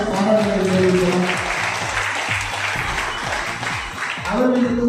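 Steady, dense audience applause fills the hall at a Tamil charity event, continuous and close throughout, with a voice speaking over the clapping at the start and end.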